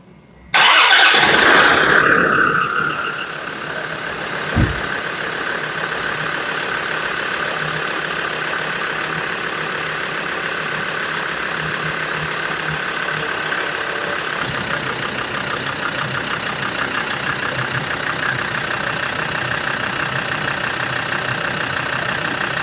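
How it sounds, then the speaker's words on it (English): A Land Rover Defender TD5 diesel engine cranks and fires up loudly, then settles into a steady, even idle that runs on for about twenty seconds with no talking. "Before I start bleeding the vehicle, I'm going to turn it on."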